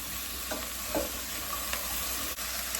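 Sliced zucchini frying in a pan is stirred, giving a steady soft sizzle broken by a few faint scrapes and clicks of a spoon, with no talking.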